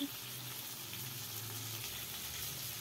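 Chilli powder and coriander powder frying in a pan over low heat for drumstick sambar, a steady soft sizzle with faint scraping, no talk.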